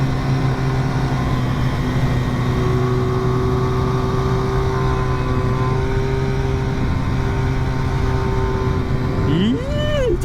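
Engine of a CMC Daytona 250 CR cafe racer motorcycle riding uphill at Genting, a steady droning hum that rises and falls with the throttle, close and loud throughout, ending with a brief rising whine.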